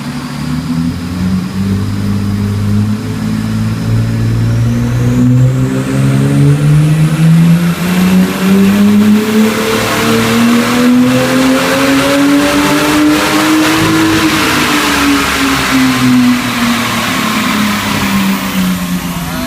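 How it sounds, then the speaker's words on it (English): A 2001 Lexus IS300 engine on a dyno, revving loudly and close through a long pull: its pitch climbs steadily for about fourteen seconds, then falls away, with no voices over it. "Gear dyno pull."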